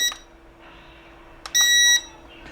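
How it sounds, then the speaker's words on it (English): Remote of a SYMA S52H RC helicopter beeping during trim adjustment: a short tone, then one long sustained high-pitched beep about half a second long, clear and close against a quiet background. "you want to hear the long beep."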